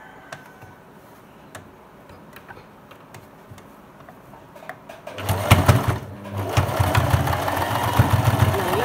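A sewing machine stitches a pillow cover: quiet ticking and handling sounds at first, then the motor kicks in, running at a loud, fast, steady clatter for the last few seconds.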